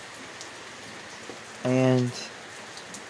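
Steady rain falls outdoors as a constant soft hiss throughout, with someone briefly speaking a single word partway through.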